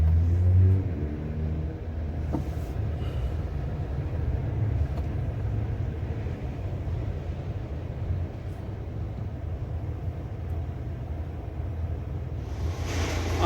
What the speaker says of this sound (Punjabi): ਇਹ ਹੈ ਜੀ ਪੈਰ ਸ਼ਹਿਰ ਦਾ ਮਾਹੌਲ ਟ੍ਰੈਫਿਕ